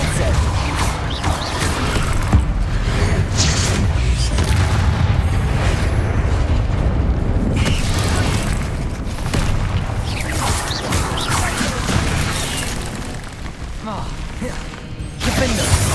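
Depulso spell blasts during Hogwarts Legacy combat, heard as repeated booming impacts and crashes among dense battle noise, with a brief lull before a final burst.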